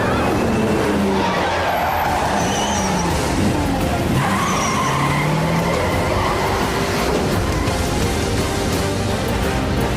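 Tires squeal and skid during a film car chase, loud and sustained over roaring engines and rumbling traffic for about ten seconds.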